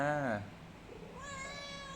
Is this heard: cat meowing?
yes